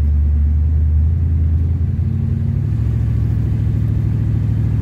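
A rough, long-neglected 1977 Pontiac Trans Am drives steadily along the road, its engine giving a loud, close, continuous low rumble with slight pitch shifts under gentle throttle and no one talking.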